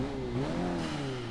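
A Lancer Evolution engine revving in Forza 6, a short rising then falling rev with clear tonal whine and rumble, close and moderately loud.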